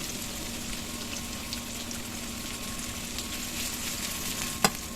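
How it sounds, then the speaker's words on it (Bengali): Chopped onion sizzles in a pan with oil after fish has been fried, for a Bangladeshi rui fish bhuna. The frying is a steady, even crackle throughout, with a single brief clink near the end. "এখন আমি প্যানে দিয়ে দিচ্ছি পেঁয়াজ কুচি"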